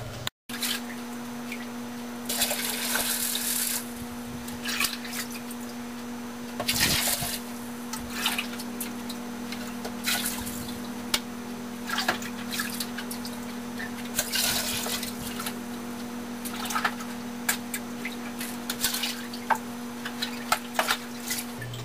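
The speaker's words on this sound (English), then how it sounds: "my water is ready to go into my tank" Water trickles and splashes in bursts as it is poured into a betta fish tank over the heater, with a steady low electrical hum running underneath.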